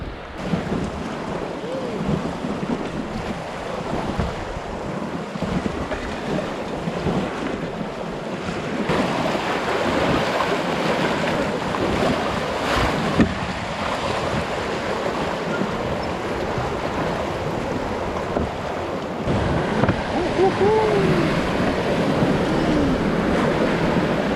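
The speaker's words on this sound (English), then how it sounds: "A little whitewater coming up ahead of us here, so I'm a little excited." Whitewater rapids on an Idaho river during a fly-fishing float, a steady broad roar of rushing water with wind buffeting the microphone, loud and continuous throughout.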